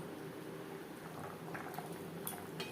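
Hilsa fish pieces and a fish head simmer in a gravy for a Bengali curry with eggplant, making a faint, soft bubbling with a few small pops and no talk.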